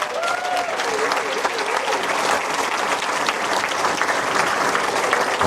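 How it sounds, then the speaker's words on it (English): An audience at the Mansfield Town academy awards applauds the club's under-21 and under-16 football teams, with dense, sustained clapping that stays full and even from start to finish. "And maintain that fine applause for our under-21s who lifted the Central League Cup."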